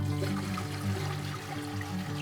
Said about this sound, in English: All right, we're gonna get our water inside of this canner.